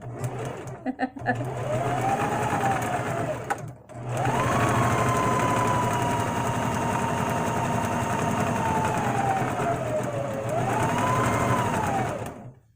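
A sewing machine runs in steady long bursts while stitching, a continuous motor whine that pauses briefly near the start and then drones on loud and close for most of the stretch.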